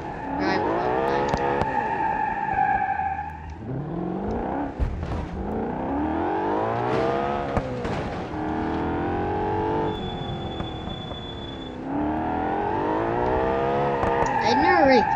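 Car driving in the BeamNG video game, an engine revving and whirring up and down through gears at close range, with people talking over it.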